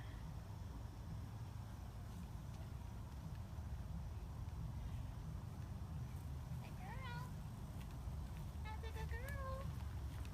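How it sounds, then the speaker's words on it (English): Servals at a big cat rescue sanctuary give a few short, rising meow-like calls around the middle and end, set against steady wind and background rumble; a voice speaks faintly nearby. "I hear all the servals calling you"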